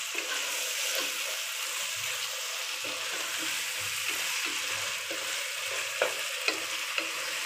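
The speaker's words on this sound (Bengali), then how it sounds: "এখন আমি ভালোভাবে নেড়ে সুন্দরভাবে একদম ভাজা ভাজা করে ফেলব" Fried rice with green chillies being stir-fried in a home kitchen pan, giving a steady sizzle throughout with repeated soft scraping and clinking of the spatula, close and moderately loud, with no talking.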